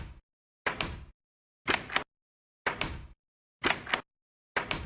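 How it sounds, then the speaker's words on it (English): Old Minecraft door sound effect from the video game, repeated five times at an even pace about once per second, each a short, loud wooden creak-and-clack burst separated by complete silence. "If you remember this door sound, you are a veteran Minecraft player."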